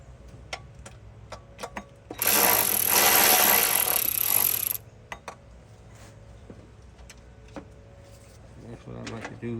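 Valve rocker nuts are tightened on a small block 383 stroker engine. Light metallic ticks and clicks are broken by one loud, steady mechanical burst of a couple of seconds, then more scattered clicking.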